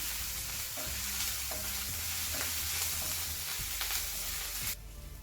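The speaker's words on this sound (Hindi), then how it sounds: "अदरक और हरी मिर्च का पेस्ट डालूंगी। और इसे अच्छे से मिक्स कर लूंगी।" Ginger and green chili paste stirred in a hot pan for vegetable stew: a close, steady sizzle with spoon scrapes and clacks against the pan at an irregular rhythm.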